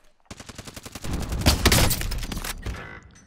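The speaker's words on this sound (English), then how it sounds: "Under hostile fire." Gunfire in the video game Call of Duty Warzone crackles in rapid bursts of automatic shots, building into a dense, loud volley before tapering off.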